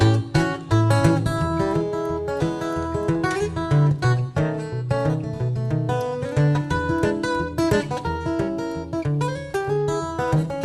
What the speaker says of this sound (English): 30 seconds of the sound of that guitar.